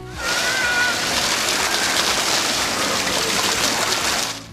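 Water from a fountain complex sprays and splashes without a break, a loud, broad hiss like heavy rain that swells in, holds steady for several seconds, then drops away at the end.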